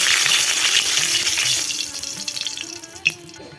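Panch phoron spices hit hot oil in a pan for a village-style winter vegetable curry. A loud, bright sizzle bursts at first, then fades to a quieter crackle, and one sharp clink sounds near the end.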